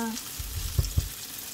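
Potatoes tip into a pan of frying onion, with a soft sizzle and a few dull thumps and knocks as they land, close and fairly quiet.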